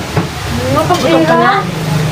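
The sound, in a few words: tilapia fish frying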